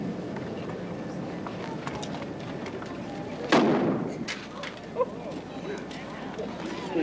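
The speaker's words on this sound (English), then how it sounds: "we're going to show you that when we shoot this hand with a blank" A single sharp blank cartridge shot from a revolver cracks loudly at a fast-draw demonstration, then fades against low outdoor background noise.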